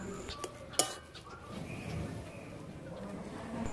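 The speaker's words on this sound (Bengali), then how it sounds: "দিয়ে ভালো করে এখন সবকটা উপকরণ একসাথে মিশিয়ে নেব।" Sweet corn and potato sandwich filling stirred and mixed in a pan, with a sharp clink of utensil on metal near the start and soft scraping under low background noise.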